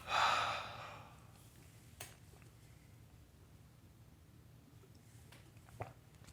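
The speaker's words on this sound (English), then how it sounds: "release the breath and let go of all tension in the body" A relaxing exhale in a guided breathing practice, letting go of breath and tension: one strong airy breath out at the start, then quiet room tone with a few faint clicks and soft breaths.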